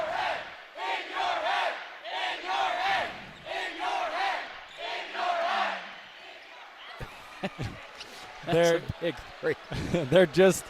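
Utah State Aggies basketball fans in an arena during a game against Montana, chanting in loud rhythmic bursts, then scattered shouts and a ball bouncing on the court, with a commentator talking over parts of it.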